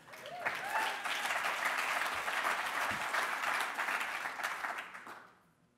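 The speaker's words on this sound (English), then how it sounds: "stand up and give him a round of applause" Audience applause at a charity auction, a dense, steady wash of clapping from a large crowd that swells quickly, holds for several seconds and then tapers off, with faint voices mixed in.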